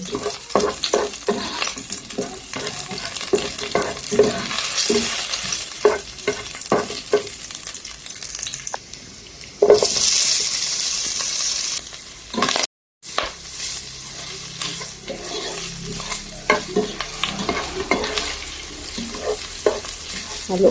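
Adobo sotanghon glass noodles cook in a pan with a little oil, a steady close sizzle broken by repeated scraping and clacking stirring strokes, with one brief gap partway through.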